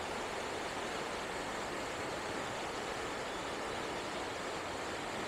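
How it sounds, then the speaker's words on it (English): Lower waterfalls at Old Man's Cave rush as a steady, even roar of falling water, constant and moderately distant, with no voices. "Okay, so there we go with the lower waterfalls."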